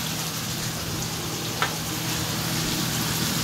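Eggs frying in a pan for breakfast give a steady, close sizzle with one brief tap partway through, and no talking.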